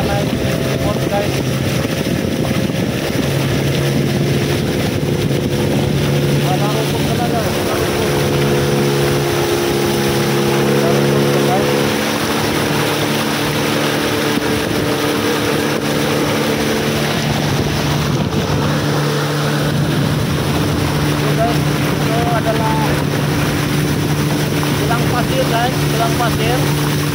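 A motorboat engine drones steadily on a river near Lahad Datu, Malaysia, with wind buffeting the microphone and occasional voices underneath.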